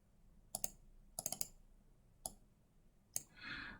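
Sharp computer mouse clicks, including quick double-clicks, sounding close and crisp as several separate bursts over a quiet room hum. A brief soft hiss follows at the end.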